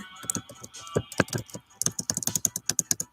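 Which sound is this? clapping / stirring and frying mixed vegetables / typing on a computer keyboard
typing on a computer keyboard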